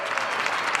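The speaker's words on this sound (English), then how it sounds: "The applause is underway at the New York Stock Exchange" Dense crowd applause on the trading floor of the New York Stock Exchange ahead of the opening bell, steady and continuous through this short moment.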